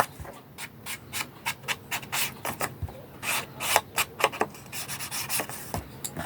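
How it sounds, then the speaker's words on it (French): Rapid, irregular scrubbing strokes of an ink pad rubbed along card edges, close and soft, repeating in quick bursts with no talking. "je vais noircir mes bords pour lui donner un côté vieilli"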